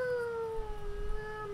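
A person imitates the cat companions from Monster Hunter, with a short, wavering meow-like vocal sliding slightly downward over a low background rumble.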